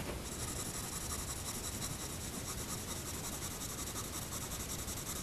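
A coloured pencil is worked across embossed paper while shading grey hair in a portrait, giving a soft, continuous scratchy rubbing that stays even and close throughout.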